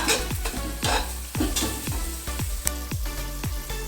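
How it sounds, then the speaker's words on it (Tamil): Mushroom biryani masala stir-fried in oil in a pan, a steady sizzle broken by regular scraping strokes of a spoon, roughly two per second, close and fairly loud with no talking. "மசாலா வதங்குறதுக்குன்னு கொஞ்சம் டைம் கொடுத்து வதக்குங்க"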